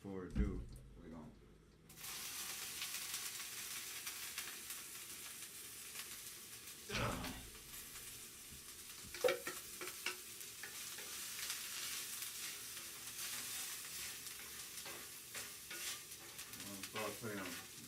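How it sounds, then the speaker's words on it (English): Vegetables sauté in a little oil, a steady close sizzle that begins abruptly after a quiet start, broken by occasional clattering stirs and utensil knocks, with a voice talking at times over it. "Saute these vegetables real quick."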